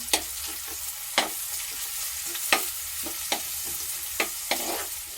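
Tamarind, ginger, garlic and green chillies frying in a pan for a clam tamarind curry, a steady close sizzle broken by several sharp spoon scrapes and taps at irregular intervals, without any talking.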